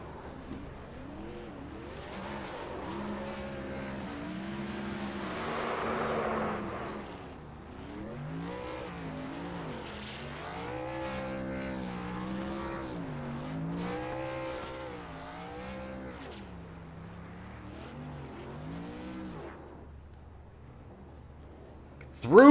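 A racing truck in a sim racing game at Talladega does a burnout, its engine revving loud and rising and falling in pitch continuously, with tire squeal mixed in throughout.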